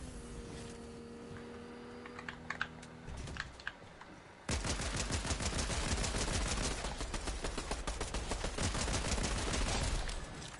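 In Fortnite, a gun fires a long rapid burst of rhythmic shots after a quieter start with clicks and a low hum, the close, loud automatic fire running continuously for several seconds.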